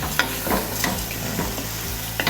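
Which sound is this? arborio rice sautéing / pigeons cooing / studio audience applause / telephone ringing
arborio rice sautéing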